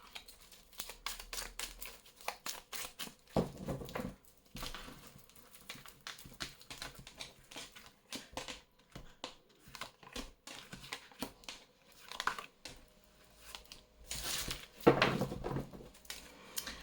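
Tarot cards are shuffled and drawn, with repeated crisp riffling and flicking bursts, soft taps and a few louder slaps of cards on a surface, close and intermittent with quiet pauses.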